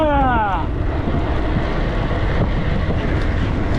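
Strong, steady wind buffeting the microphone in a continuous roar during a bicycle ride between Kıyıköy and İğneada, with a brief tonal whine at the start.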